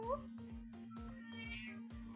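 A cat meows a few times up close in a home, short high cries over a steady low hum, with a person talking alongside.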